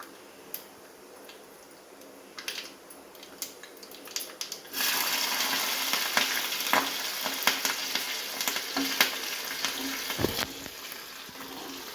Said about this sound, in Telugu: పాన్ పెట్టిన దాంట్లో ఆయిల్ వేసిన కొంచెం ఒక టేబుల్ స్పూన్ కొన్ని ఆవాలు